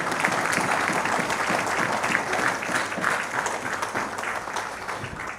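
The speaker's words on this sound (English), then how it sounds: "Sisters and brothers, give them now a better, stronger round of applause." Steady, sustained applause from a banquet audience at an anniversary awards dinner fills the room, dense and even throughout with no speech over it.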